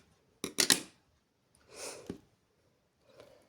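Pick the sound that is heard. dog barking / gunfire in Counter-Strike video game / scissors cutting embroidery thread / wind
scissors cutting embroidery thread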